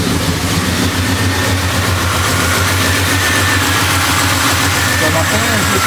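A rebuilt 406 small-block Chevy V8 in a 1973 Impala idles steadily right after startup, a loud, close, rough rumble that continues without a break.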